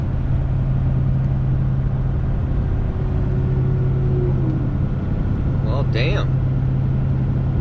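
A 2021 Ford F450 Platinum pickup towing a trailer in ninth gear gives off a steady, loud, low engine drone with road rumble throughout, and someone speaks briefly over it.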